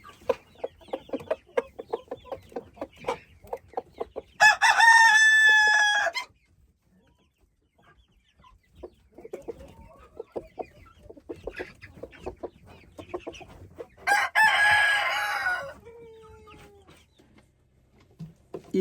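Two loud rooster crows ring out close by, each lasting a couple of seconds, while hens cluck steadily underneath and between them in a farmyard flock.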